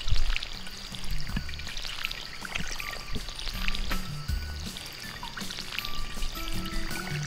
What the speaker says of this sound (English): And water my potatoes.